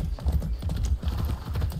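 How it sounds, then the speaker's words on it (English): Horse hooves clip-clopping at a steady trot during first-person riding in the video game Far Cry 6, close and continuous over a low rumbling game soundscape. "First-person horse riding."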